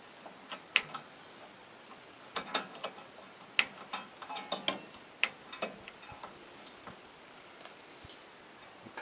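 A brake dust shield is cut during a dual-piston front brake upgrade, giving irregular sharp metallic clicks and snaps over a low background hiss, close and fairly loud.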